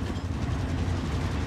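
A train moves through a video game, producing a dense, continuous low rumble with a steady roar and no voices.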